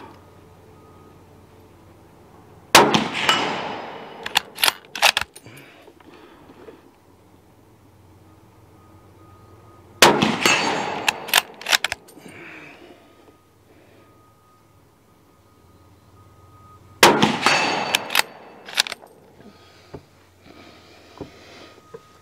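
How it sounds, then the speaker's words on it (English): Three loud rifle shots from a Taurus Expedition .308 fired at distant targets outdoors, each a sharp crack followed by a trailing echo rolling back, spaced about seven seconds apart with quiet between. "You can hear the delay in the shot and the sound coming back."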